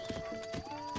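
Rapid rhythmic hoofbeats of a galloping horse in Zelda: Breath of the Wild, close and clear, repeating in quick bursts over a steady synthetic tone.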